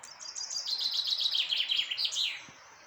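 Birds chirp continuously in quick, high twittering bursts in a village, fairly close and steady, with a faint background hum and no talking.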